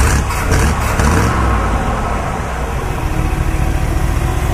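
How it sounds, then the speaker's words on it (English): A cold 1971 Dodge D100 Adventurer pickup truck engine revs hard, a loud steady roar that holds high and rough for several seconds. "go ahead and rev it up a little bit."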